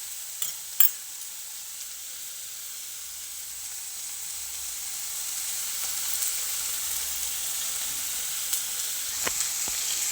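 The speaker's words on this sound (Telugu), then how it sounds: "చూడండి, ఆనియన్స్ ఇంకా వేగుతూ ఉన్నాయి." Onions sizzle steadily in a pan while cooking for egg pulusu, a constant bright frying hiss with a few faint clinks and stirring scrapes, close by and without any voice over it.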